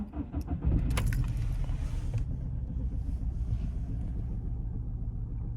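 A VW Golf Mk5 engine idling rough with a cylinder 2 misfire: low, uneven rumbling with a shaky, irregular pulse, close up, accompanied by a few clinks and rattles early on and no talking.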